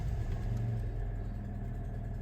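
An Alfa Romeo 147 idles with a small exhaust manifold leak, giving a steady low, even hum with little change throughout. Any ticking stays faint under the engine.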